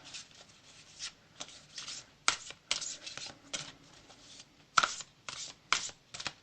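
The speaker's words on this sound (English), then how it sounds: "I'm really struggling to pick up enough to shuffle with this." Tarot cards are shuffled by hand in repeated crisp riffling bursts, close and fairly quiet, with short pauses between each pass and no talking.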